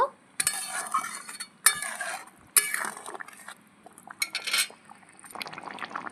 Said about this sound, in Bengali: মাছ দিয়ে ভালো করে ফুটিয়ে নেব